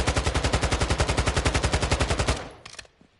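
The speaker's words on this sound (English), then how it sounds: "as soon as I can sense that I'm somewhere close to him, I start firing" Fully automatic gunfire on a video game firing range, a loud, steady rapid burst of evenly spaced shots running a little over two seconds before stopping abruptly, followed by a few mechanical clicks.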